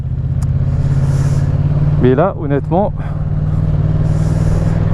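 Yamaha MT-07 motorcycle engine humming steadily while riding on country roads, a continuous low drone with a brief stretch of speech over it.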